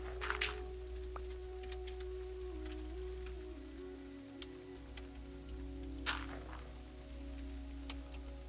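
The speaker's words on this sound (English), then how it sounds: "I can't, because it's raining" Rain falling in a video game, a soft, steady patter under a constant low electronic hum, with a few brief ticks and chirps scattered through and no talking.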